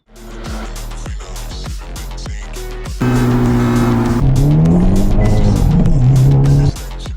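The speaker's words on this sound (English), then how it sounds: "this is my 2019 Shelby Gt350. It is a flat plane crank, naturally aspirated V8" A 2019 Shelby GT350 with a naturally aspirated flat-plane crank V8 revs loudly up close, several sharp blips and falls leading into a sustained high rev that climbs and holds before dropping away.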